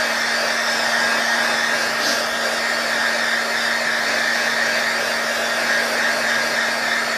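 A hair dryer blows continuously at close range, a loud steady whoosh with a constant motor hum.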